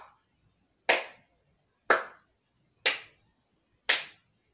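Four slow, evenly spaced hand claps, performed as a real-life version of a Fortnite dance, each one sharp and close in an otherwise quiet room.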